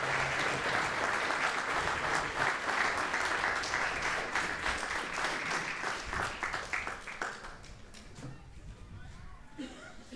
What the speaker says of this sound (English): Again, a nice round of applause for Sergeant Tim Curtin.